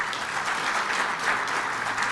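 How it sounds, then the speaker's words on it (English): A room full of people claps steadily, a continuous wash of applause without talking. "just a round of applause for the PC members?"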